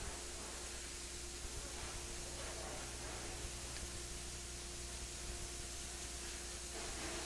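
A keg washer cleaning stainless steel beer kegs on a Hamms and Olympia bottling line gives a constant, faint spraying hiss over a steady mechanical hum.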